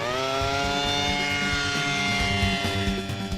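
A DARPA micro air vehicle takes off with a loud, high-pitched propeller whine that rises steadily in pitch as the rotors spin up, sounding close and alone without voices.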